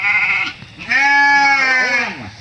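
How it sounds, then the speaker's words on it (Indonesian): Goats kept beside a house in a deserted village bleat loudly and close, two long wavering calls, the second more drawn out and quavering. "kita lihat kambing"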